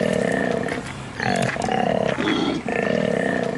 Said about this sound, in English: He bellows harder.